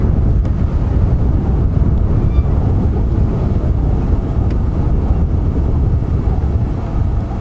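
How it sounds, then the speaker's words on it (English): Strong afternoon wind buffets the open air during a safari game drive at Djuma Game Reserve, a steady loud rumbling roar with gusty texture and mic buffeting throughout, no voices. "Quite a strong wind blowing this afternoon."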